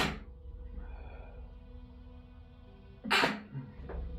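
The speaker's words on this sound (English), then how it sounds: "I'm going to sneeze." A single short sneeze bursts out partway through an otherwise quiet room, followed by faint rustling.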